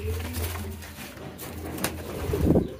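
Pigeons coo steadily up close, their low throaty calls running continuously while the birds squabble over nest spots, with a louder flurry of cooing and scuffling near the end.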